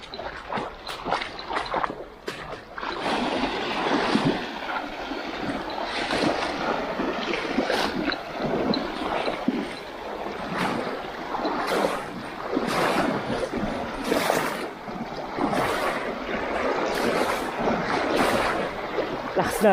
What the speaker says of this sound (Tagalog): Lakas na agos.